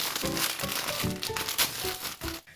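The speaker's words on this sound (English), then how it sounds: "And now, let's open the envelope." A paper envelope being torn open, heard as close, crinkly tearing and rustling in several uneven bursts with no talk.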